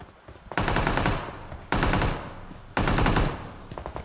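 Rapid bursts of automatic gunfire from a shooting video game, three long volleys starting abruptly and sustained at close range, loud and dense, with no talk over them.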